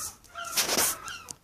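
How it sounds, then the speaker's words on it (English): Seagulls squawking outdoors, a few harsh overlapping calls at a moderate distance, with no talk over them. "The seagulls making a racket as usual."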